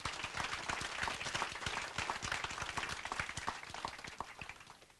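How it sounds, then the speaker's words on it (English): Outdoor applause from attendees at a library groundbreaking, a scattered crowd clapping steadily with distinct individual claps, moderately distant, gradually thinning and fading out. "So a big round of applause for each of you."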